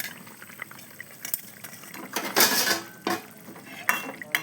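Fish curry with snake gourd and katla fish simmers in a pan, bubbling and hissing softly with a few stirring clinks and splashes, up close and without talk.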